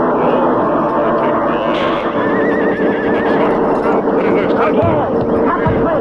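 A horse neighs and gallops in a radio drama, a whinny and hoofbeats heard loud amid a dense, busy mix with voices talking over it.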